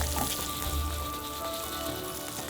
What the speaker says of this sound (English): And now fry these. Tilt them, give it a nice deep frying effect